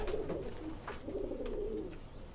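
A male tube light breed pigeon coos in low, throaty rolling phrases, two drawn-out bursts close by with a faint background hiss.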